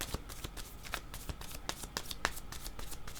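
Playing cards are shuffled up close in a steady, rapid riffling patter of soft flicks and snaps during a card reading. No one speaks.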